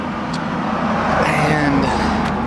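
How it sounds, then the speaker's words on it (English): A few cars drive past on a nearby road, a steady broad tire-and-engine roar that swells slightly mid-way and fades again, with no talking. "Got a few cars coming."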